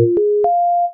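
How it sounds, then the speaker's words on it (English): A plain sine wave tone from a synth in Bitwig sounds in short steady notes, stepping up in pitch and ending on one held clean tone, dry and alone. "I'm just gonna turn this into a straight up sine wave"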